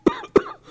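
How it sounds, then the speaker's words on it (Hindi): Two loud, harsh coughs in close succession from a sick man, each a sharp burst that trails off, with no other sound around them. "बहुत जोर से खांसी हो रही होती है"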